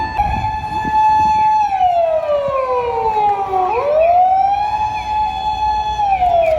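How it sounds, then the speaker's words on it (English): A loud ambulance siren wails close by on a road in Okinawa, Japan, its pitch dropping steeply as it passes and then rising again, with road rumble underneath. "And there's an ambulance."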